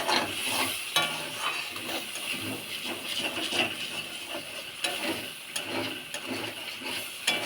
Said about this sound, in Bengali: মশলাটা কষাই।